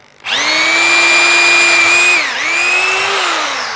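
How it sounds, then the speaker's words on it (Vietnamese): A power drill, sold as a cheap concrete drill, turns a wood bit into hard wood, giving a loud, steady high-pitched motor whine that sags briefly under load before recovering, with no talking. "test thử khoan gỗ luôn cho các anh chị xem nha"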